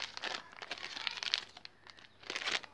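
A packet of Surf detergent powder crinkles and rustles up close as powder is tipped into a jar of water, in quick irregular crackles with a brief lull.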